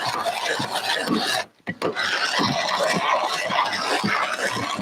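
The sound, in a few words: grinding coffee beans with a hand grinder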